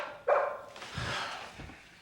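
A dog in a disaster action movie gives one sharp bark followed by a couple of softer yips, close and fairly loud, with no talk over it.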